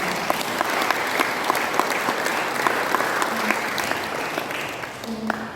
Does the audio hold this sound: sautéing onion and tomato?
no